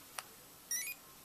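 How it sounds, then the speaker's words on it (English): A GHD hair straightener gives a short electronic beep once, followed by a brief higher two-tone chirp, both faint against a quiet background. "And then I think it does another beep when it's hot enough."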